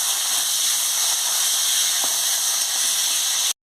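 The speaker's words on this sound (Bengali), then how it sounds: "আমি তেলটা দিয়ে দিচ্ছি, আমি আলুটা দিয়ে দিচ্ছি। আলুটা দিয়ে ভালো করে ভেজে নিচ্ছি।" Potatoes frying in hot oil for a Bengali potato and pointed gourd curry give off a steady, loud, broadband hiss that holds without a break and then stops abruptly.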